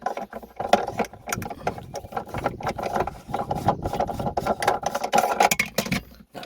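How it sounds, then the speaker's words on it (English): A spare wheel retainer being unscrewed by hand in the boot of an Audi A5, giving a close, continuous run of ratcheting, grinding mechanical clicks and scrapes. "You want to release the spare wheel by unscrewing this."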